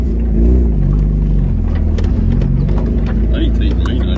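A Mazda MX-5 Miata engine runs just after starting, a loud, steady low rumble heard from inside the small car, with people chatting in the cabin over it.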